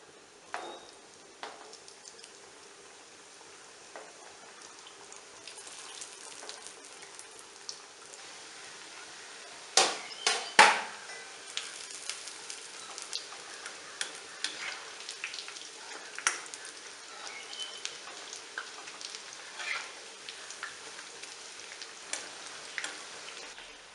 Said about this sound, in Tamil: பாருங்கள், எண்ணெய் இந்த ஓசையெல்லாம், இந்த பப்புள்ஸ்லாம் கொஞ்சம் அடங்கிடுச்சு.